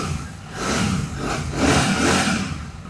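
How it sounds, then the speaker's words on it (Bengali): A nearly new Royal Enfield Classic 650 motorcycle runs up close, its engine swelling in two revving surges over a lower idle, loud and alone with no talk. "ক্লাসিক 650 আগে সাউন্ডটা শোনাই।"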